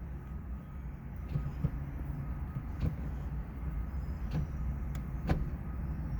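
A Honda Civic Si manual shifter with short throws gives a handful of sharp, close clicks as it moves through the gears, spaced irregularly over a low, steady cabin rumble.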